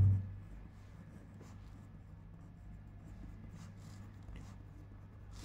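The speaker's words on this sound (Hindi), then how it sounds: "यहाँ लिख देता हूँ साइड्स ऑफ क्यूब" A pen writes on paper while a cube figure is drawn, producing faint, intermittent scratchy strokes close by over a low steady hum, with a soft thump at the start.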